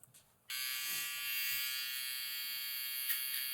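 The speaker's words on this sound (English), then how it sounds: "I'm going to use a trimmer that's zero gapped." A zero-gapped electric hair trimmer buzzes in a steady, close, continuous drone during a skin fade, switching on after a brief quiet start and running alone without any talk.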